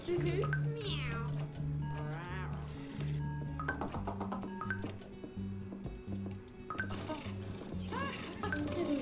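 A cat meows repeatedly in a shop selling fish and chips, with high, wavering cries rising and falling over a busy background of people talking and register-like clatter.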